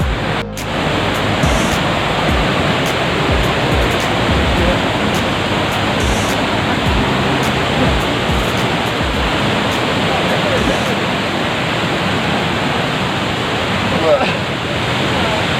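An Ooty waterfall and its stream roar continuously, a dense, loud, unbroken rush of flowing water close by from start to finish, with no other sounds standing out.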